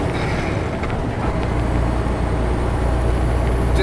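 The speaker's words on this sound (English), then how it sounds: "Okay, a nice high rev." A motorhome engine revving high just before a downshift, a steady loud drone with heavy low rumble that holds through the whole stretch, no talking over it.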